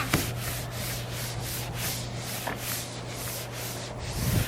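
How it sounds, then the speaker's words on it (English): Steady rubbing and scrubbing on the body of a CVPI police car as flaking paint and dirt are worked off, a continuous close abrasive swish over a constant low hum. "just scrubbing the paint off"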